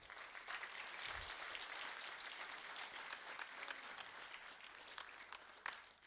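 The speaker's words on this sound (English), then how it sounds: "Round of applause for Ryder Turcotte." Applause from an audience at a school awards ceremony, a continuous patter of many hands that is fairly faint and distant, running the whole stretch with one sharper clap near the end and no speech.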